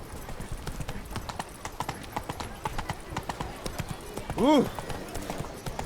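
Roach, the horse in The Witcher 3: Blood and Wine, trots with a steady clip-clop of hooves close by, and a voice exclaims briefly over the hoofbeats.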